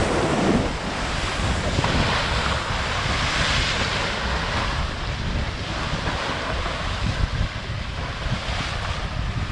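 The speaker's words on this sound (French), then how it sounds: "vous voyez, hop, une vague, 1, 2, 3 secondes, il y a une autre vague." Short, choppy sea waves slapping the hull of the sailboat Black Lion at sea between Martinique and Guadeloupe, a loud continuous wash of surf with strong wind buffeting the microphone.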